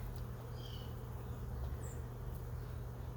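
Honeybees hum around a hive in late winter near spring, a soft continuous buzz with a low steady drone and a couple of brief higher whines of individual bees passing close, fairly faint overall.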